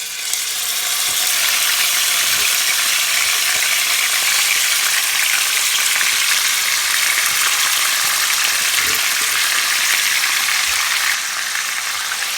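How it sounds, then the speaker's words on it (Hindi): Marinated chicken fries with spices in a hot pan, a dense, steady sizzle that stays loud and even throughout, with faint scraping of stirring underneath. "अब हम चिकन को भूनेंगे"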